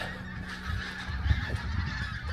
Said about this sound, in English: Those geese are noisy today.